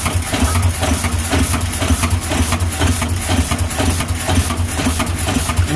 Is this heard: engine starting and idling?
yes